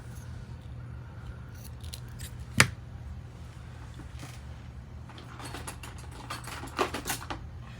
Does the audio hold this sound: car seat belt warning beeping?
no